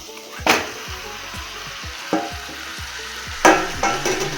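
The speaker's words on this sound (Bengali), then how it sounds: "এইবার আমার যে ম্যারিনেট করা যে মাংসটা আছে, যে এটাকে এবার ঢেলে দেব" Marinated mutton with yogurt poured into a hot pot over high flame, sharp bursts of sizzling with stirring and utensil clanks between, close and loud, no talking.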